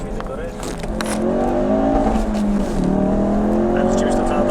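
Decat Ford RS engine revving up toward 5,000 rpm, a loud, rising exhaust roar that climbs, dips briefly and climbs again, heard from inside the car with people talking over it.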